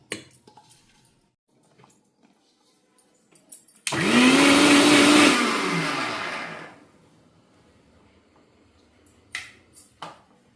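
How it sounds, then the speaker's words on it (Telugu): A kitchen mixer grinder whirs loudly in one burst of about three seconds, grinding turmeric to make kumkum, rising in pitch and then winding down, with faint clicks and handling noises before and after. "లిడ్గా అంతా ఇలా ఇందులో వేసేసి మళ్ళీ ఒకసారి మిక్సీకి వేయాలి"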